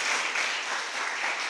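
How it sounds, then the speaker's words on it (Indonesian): Audience applause at a business seminar fills the room as sustained, dense clapping from many hands, loud and even throughout with no speech over it. "Kita berikan tepuk tangan pada One Vision."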